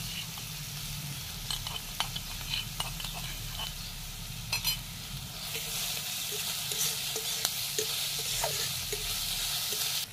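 Finely chopped onion with crushed ginger and garlic fries in a pan, a steady close sizzle that grows louder partway through, with scraping stirs and occasional light clinks of a utensil.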